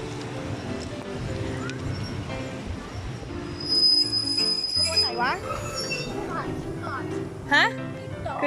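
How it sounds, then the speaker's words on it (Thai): Train arriving at Bang Pa-in station, wheels squealing and screeching on the rails as cars roll in, steady rumble with sharp metallic squeals, while people talk nearby. "รถไฟกำลังมาแล้ว"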